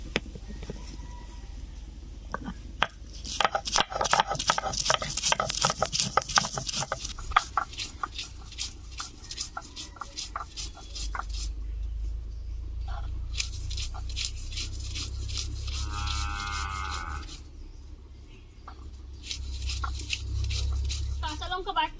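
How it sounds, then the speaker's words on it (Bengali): Green chillies ground by hand on a stone in a village kitchen: a quick run of rhythmic, scraping grinding strokes near the start, then softer rubbing and a low background rumble, with a voice speaking at times. "এখন বেটে নিচ্ছি কাঁচা লঙ্কা"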